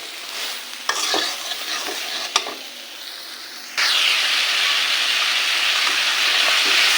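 Potatoes and ridge gourd fry in a pan with steady sizzling and a few sharp spatula clicks, then a sudden louder, fuller hiss of frying takes over and holds to the end.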